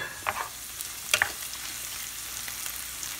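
Potatoes cook in a pan with a soft steady frying hiss and a couple of brief spoon scrapes and clinks early on, close and quiet, with no voices.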